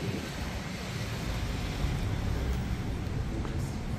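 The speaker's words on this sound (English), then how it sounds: "But I think there's some wind today." Wind gusts across an outdoor street in Johannesburg's inner city, a steady broadband rush buffeting the microphone with low rumble throughout, loud and continuous.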